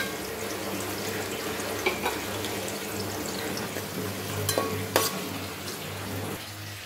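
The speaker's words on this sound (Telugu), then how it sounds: "ఆనియన్స్ వేస్తున్నాను. ఇవి బాగా బ్రౌన్ కలర్ వచ్చేలాగా వేయించుకోవాలి." Onions browning in a pan for chicken dum biryani, a continuous soft frying hiss with occasional stirring knocks and a faint steady hum underneath, close and moderate.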